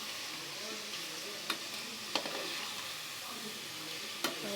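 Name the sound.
stirring boiled beef into frying masala in a pan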